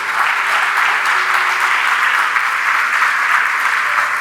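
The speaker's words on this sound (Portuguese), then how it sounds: "aplauda o Senhor por isso" A church congregation applauding during a sermon, a loud, dense, continuous roar of many hands clapping together, steady throughout with no distinct individual claps.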